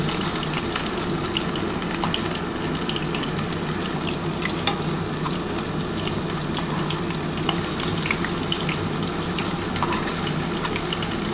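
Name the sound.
mutton keema and potato fritters frying in oil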